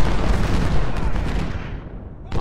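Cannon fire in the Civil War strategy game Ultimate General: Civil War, a dense continuous rumble of booming artillery and gunfire that gradually fades, with a fresh blast at the very end.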